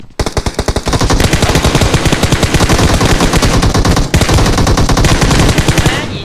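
Automatic gunfire rattles in a shooter video game: a few single shots, then a loud, sustained burst of rapid fire with a brief break near the end.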